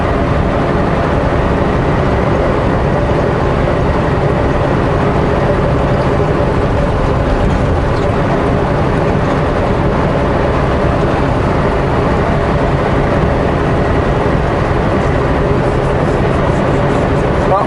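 A personal vehicle drives across a desolate landscape, its engine and road noise forming a loud, unbroken drone heard from inside with no talking.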